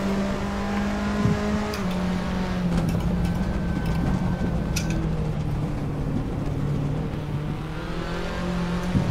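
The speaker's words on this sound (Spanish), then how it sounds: "voy derrapando tú por la pista" A Fiat Tipo competition car drifts around the Ricardo Tormo circuit during a race. Its engine drones loud and close throughout, holding a steady pitch with slight rises and falls and no pauses.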